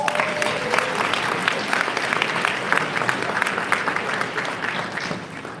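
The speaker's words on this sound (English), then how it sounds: "Give all of you a round of applause." A room full of people at a live-streamed community organization event gives a sustained round of applause, a loud, dense clatter of hands that tapers off at the end.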